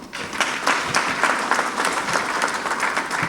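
An audience at an official ceremony applauds, with a sustained crackle of many hands clapping at moderate loudness and even intensity across the whole stretch, with no talking over it.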